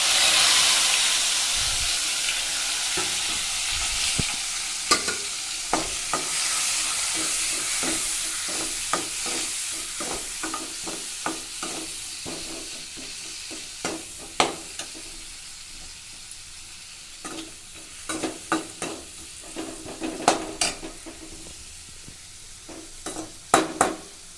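Half an onion and half a tomato sauté in hot oil for a tempering, hissing steadily up close as a utensil stirs them, with sharp clicks and scrapes against the pan that come more often toward the end.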